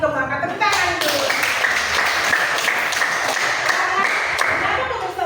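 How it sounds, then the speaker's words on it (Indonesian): A classroom of students at a junior high school claps in a burst of applause that runs for several seconds, with children's voices chattering over and around it. "Tepuk tangan dulu"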